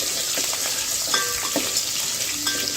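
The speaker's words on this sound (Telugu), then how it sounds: "ఒక మీడియం సైజ్ ఉల్లిపాయ వేసుకున్నాను ఒక మూడు పచ్చిమిర్చి అయితే వేసుకొని బ్రౌన్ కలర్ వచ్చే వరకు అయితే ఫ్రై చేస్తున్నానండి" Chopped onion and green chilies fry in hot spiced oil, a close, dense sizzle with occasional stirring clinks, continuous and without talk.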